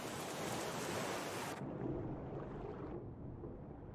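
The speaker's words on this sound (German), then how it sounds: "Ah, Wellen, okay." Ocean waves wash and roar continuously in the survival video game Raft, a loud broadband surf that drops in intensity partway through, with no talking.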